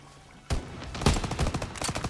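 Gunfire in the World War II Hill 493 mission of Call of Duty: WWII erupts after a quiet start, with a single crack followed by rapid bursts of automatic fire and scattered battlefield shots.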